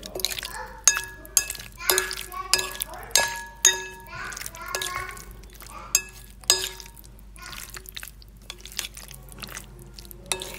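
A fork scrapes and clinks against a bowl while a composed salad with ham and saucisson is mixed, a run of bright, irregular taps close by, with faint children's voices in the background.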